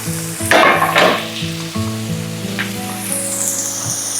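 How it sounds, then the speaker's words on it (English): Corned beef hits a pan of softened onions and bursts into a loud, crackling sizzle, followed by a few sharp surges as it is stirred before it settles into steady frying. "we can add in the corned beef."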